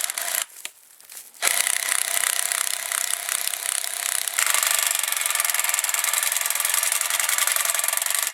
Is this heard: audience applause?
no